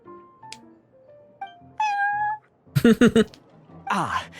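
Prince, the cat at the Cat's Tail in the video game Genshin Impact, gives a string of short, varied meows, some rising and gliding, then a burst of quick chirpy mews and a falling yowl, close and clear with no talking.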